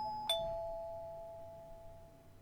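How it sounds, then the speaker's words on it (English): A single doorbell chime rings once in the horror game Corpse Party Blood Drive, a quiet, clean tone that lingers and slowly fades over a low, still room hum. "And then the doorbell rang again."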